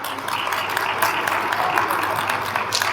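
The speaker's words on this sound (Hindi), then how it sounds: "चलिए एक बार अपने लिए तालियां बजा लीजिए।" A seated audience claps together at a live comedy show, a dense, even patter of many hands that stays fairly loud and close for the whole stretch.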